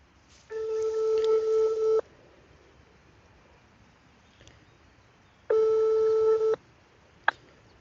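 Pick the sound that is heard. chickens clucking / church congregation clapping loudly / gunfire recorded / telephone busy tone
telephone busy tone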